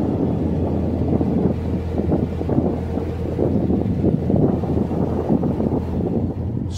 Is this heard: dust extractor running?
no